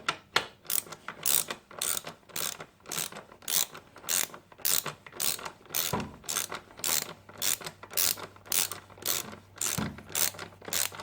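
A torque wrench with a 14mm socket ratchets steadily while tightening the rear brake nut on a Suzuki GSXR750, a close, regular run of loud clicking strokes that carries on for several seconds without speech.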